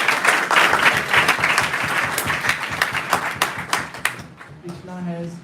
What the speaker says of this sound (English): Please clap for him.